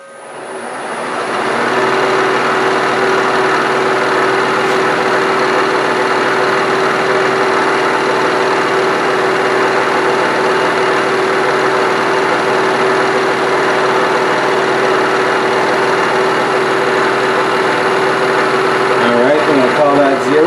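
Milling machine motor spinning up and running steadily while an end mill cuts a hole, a continuous close hum with a rising start and a faint squeal near the end, with people talking over it.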